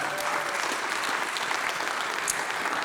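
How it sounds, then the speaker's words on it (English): Audience applauding filmmaker Todd Kwait at a film premiere panel discussion, a steady dense clapping from a crowd filling the room throughout, loud and continuous with no talk over it. "how about a round of applause for Todd Kwait"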